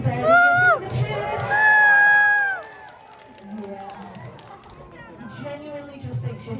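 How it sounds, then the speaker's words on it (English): Audience at a sea lion show cheering and shouting as the animal comes onstage, two loud bursts of crowd cheers followed by lower babble, with a presenter talking between them. "I want you to welcome him to the stage with a great big cheer"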